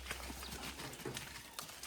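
Bullocks being led out to the fields on a Konkan farm for the first plowing day of the season, hooves clopping at a steady walking pace, moderately close, with outdoor ambience and no talk.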